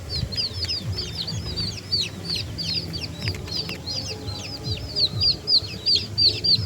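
Baby chicks peeping and clucking in a rapid, overlapping chorus of high chirps, close and fairly loud, with soft rustling underneath.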